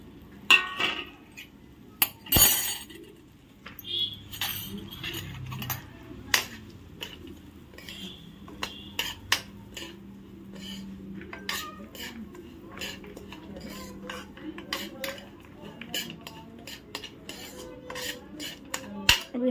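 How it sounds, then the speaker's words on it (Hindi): Rice tipped into hot ghee in a cooking pan is stirred with a metal spoon: scattered clinks, taps and scrapes against the pan over a quiet background, with occasional faint voices. "तो घी भी हो गया है गरम, अब इसमें डाल देती हूँ चावल"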